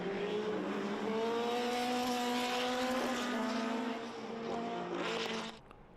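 Vintage race cars scream through a turn at Laguna Seca during an SVRA Group 2 race, their engines rising and falling in pitch as they pass close by, loud and sustained before fading out at the end.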